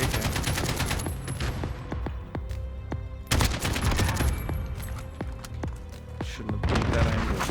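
Rapid AK-47 bursts from a first-person shooter game crack out again and again, dense automatic fire with booming impacts spread across the whole stretch, loud and close, with faint chatter from players in the background.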